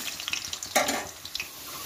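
Potatoes fry in hot oil in a home kitchen pan, a soft, close crackle and sizzle with a few brief stirring scrapes and one louder flare midway.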